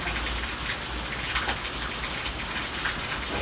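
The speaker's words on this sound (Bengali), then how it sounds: "তো বৃষ্টি একটু কমলো" Steady light rain patters on surfaces, a continuous even hiss with scattered drops throughout, no voices.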